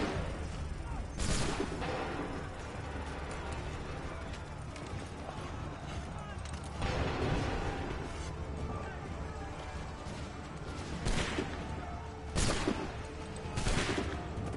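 Musket volleys crack out in Assassin's Creed 3, several sharp separated blasts over continuous battle ambience with hooves and clatter, and voices shouting orders in between.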